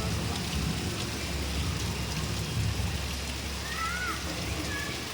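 Heavy monsoon-style rain pours down during a thunderstorm, a dense, unbroken roar of drops on surfaces that stays loud and even throughout.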